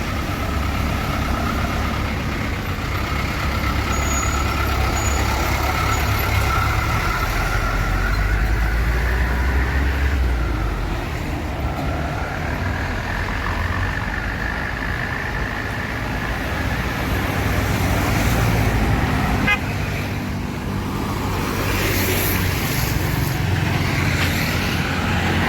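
Rosalia Indah buses and steady traffic at a busy bus parking area, a continuous low engine rumble and road noise with no pauses, loud and close throughout.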